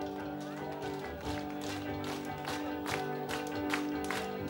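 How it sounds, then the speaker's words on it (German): Audience at a punk rock concert clapping along in a steady rhythm, the claps mixed into loud live band music throughout. "Ja, klatscht bitte auf."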